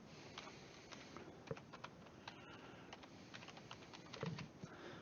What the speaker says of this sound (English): I'm going to type them in here